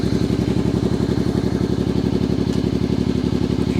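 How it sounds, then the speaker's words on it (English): A warm Honda NT650 GT Hawk motorcycle idles steadily with an even, throbbing low rumble, close and continuous. "Let me fire it up for you guys. The bike is warm, so it should pop right into life."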